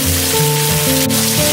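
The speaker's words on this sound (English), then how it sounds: "It's only raining in that one spot." Water spatters steadily like rain near a West Virginia waterfall, a loud, dense, continuous hiss of falling droplets heard close with no break, alongside low sustained tones.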